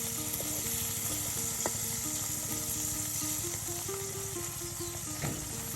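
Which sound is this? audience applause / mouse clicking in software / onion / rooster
onion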